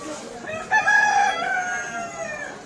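Desi chickens at Bongaon New Market crow in a short, loud cock-a-doodle near the mic, with clucking underneath and market noise around them.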